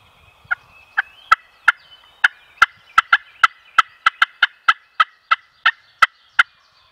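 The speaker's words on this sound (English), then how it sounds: "Got birds gobbling, but they're about 250 yards from me." Wild turkeys gobbling roughly 250 yards off across a ridge during a spring hunt: a steady run of about sixteen sharp, evenly spaced bursts that quicken slightly, standing out clearly against quiet woods with no talking.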